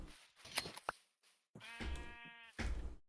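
Sheep in Minecraft bleat in a few short, wavering calls, close and clear, with small knocks and clicks from the game between them.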